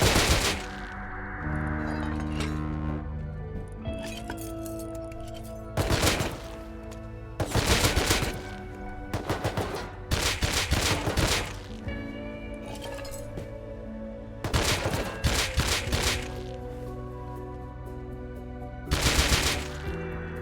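AK rifle gunfire in the video game Rust, several separate loud bursts of rapid shots spaced across the stretch with quieter pauses and some metallic clinks between them.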